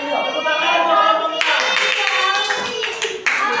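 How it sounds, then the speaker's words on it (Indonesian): Classroom applause for a student group in an Indonesian school lesson: a burst of many hands clapping starts loud and close about one and a half seconds in and continues steadily to the end, with voices of students and teacher talking beforehand and underneath. "Tepuk tangan untuk kelompok"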